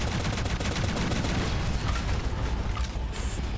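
Dense, continuous gunfire from a shooter game, Shadowgun Legends, in a gold arena match, with rapid overlapping shots filling the whole stretch at a steady loud level.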